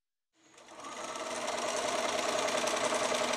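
A Bernina sewing machine with a blind-hem foot runs a blind hem along a folded edge, starting after a brief silence and settling into a steady, fast mechanical whir of stitching that holds to the end, close and alone.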